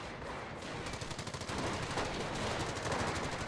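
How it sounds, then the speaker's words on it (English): Several machine guns rattle in a Company of Heroes battle, dense rapid bursts overlapping continuously at close range and moderate loudness, with no voices. "3 machine guns managing to push back all their infantry, or pin them down at least."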